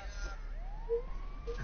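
An ambulance siren in the racing game The Crew 2 sweeps upward in a thin rising wail, fairly faint and distant under low game rumble.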